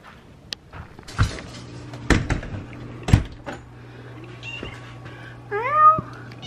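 A house cat meows at the end, a short rising-and-falling call, after knocks and clattering of cupboards and dishes in a kitchen with a low steady hum beneath.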